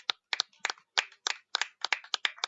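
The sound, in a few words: clapping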